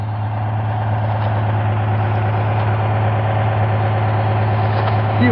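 A Citroën 2CV engine idling in freezing cold, a steady low chugging drone that stays close and even throughout with no talking over it.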